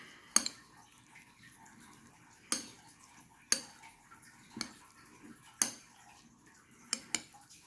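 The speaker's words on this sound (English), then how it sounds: "Some green onion. Mix it up good." A spoon scrapes and clinks against a pot of chili with green onion as it is mixed, about eight sharp metallic taps spread out unevenly, close but soft against a quiet background.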